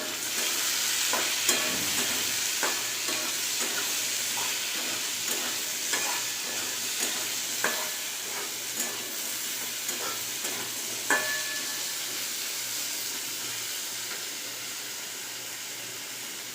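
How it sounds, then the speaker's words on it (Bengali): Potatoes fry in a pan for a Bengali bitter gourd vegetable chorchori, a loud continuous sizzling hiss broken by repeated stirring scrapes and clicks at a steady pace, with no voices. "আলুগুলো আমি লাল লাল করে ভেজে নেব।"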